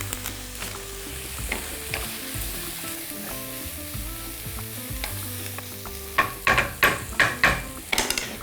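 Beef sizzles while frying in a pan, a steady close crackle with occasional sharp stirring scrapes and clacks toward the end.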